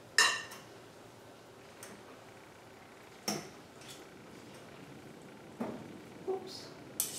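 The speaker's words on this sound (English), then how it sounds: "I'll use a couple forks. Let's just gently toss them together." A couple of forks gently tossing a roasted vegetable farro salad in a bowl, producing sparse light clinks and taps against the dish with quiet gaps between them.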